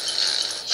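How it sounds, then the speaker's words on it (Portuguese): A pitbull dog in the shooter game Pixel Gun gives a short, high yelping bark, one quick burst heard alone. "Vamos ver se esse pitbull é bom."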